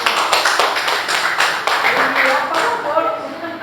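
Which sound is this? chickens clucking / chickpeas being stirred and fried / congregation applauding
congregation applauding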